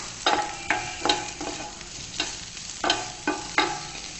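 Spring onions sautéing in a hot pan while being stirred, with a soft background sizzle broken by repeated sharp scraping strokes of the spatula, about eight in a loose rhythm.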